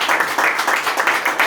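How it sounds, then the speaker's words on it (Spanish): A church congregation gives rhythmic, loud applause to God, with dense clapping pulsing in quick waves throughout a short burst, close and full. "Le damos una fuerte ofrenda de palmas a nuestro buen Dios"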